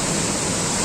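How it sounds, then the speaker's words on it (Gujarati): The Meghad river near Amrapur, Maliya, is in flood after torrential rain. Its water rushes past in a loud, unbroken roar of churning flow. "આપ જોઈ શકો તો મેઘડ નદી ગાંડી તૂર થઈ છે."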